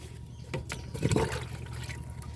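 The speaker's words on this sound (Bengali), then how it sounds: "এবার সয়েল টনিক মিশ্রিত যে জল, সেই জলটা আমি প্রয়োগ করব।" Soil tonic mixed water poured into a rooftop garden pot growing a vegetable plant, a watery splashing and trickling wash swelling near the middle and continuing steadily at close range, with no talk over it.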